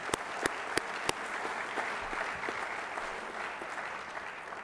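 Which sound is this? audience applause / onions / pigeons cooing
audience applause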